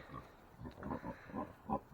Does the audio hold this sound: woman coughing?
no